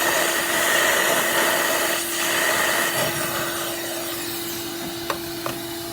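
A vacuum nozzle drawing debris out of a spark plug hole on a BMW N55 engine, a steady close broadband whoosh with constant suction tone, then two brief knocks near the end.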